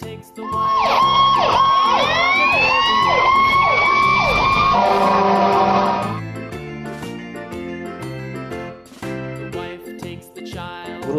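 A fire engine siren wails loudly with rising and falling sweeps for about six seconds, then gives way to a jingly tune that carries on to the end.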